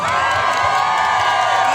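Loud, dense crowd cheering and whooping with clapping mixed in, sustained throughout as people welcome swimmer Tono on arrival.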